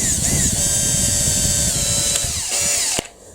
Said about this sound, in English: I'll just drill one in the front here as well